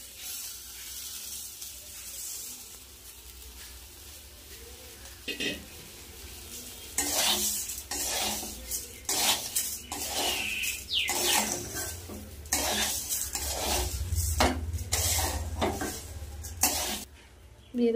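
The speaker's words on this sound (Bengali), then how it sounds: "এবার আমি দিয়ে দেব ধুয়ে রাখা গোবিন্দভোগ চাল।" Gobindobhog rice being stirred in a pan with lightly fried soybean and cashews, a sizzling hiss broken by repeated scraping stirs that grow busier and louder midway.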